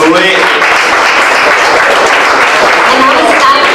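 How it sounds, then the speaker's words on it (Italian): Dense, loud audience applause fills a gala hall at an end-of-season event, steady and sustained throughout with no break. "Grande applauso per lui."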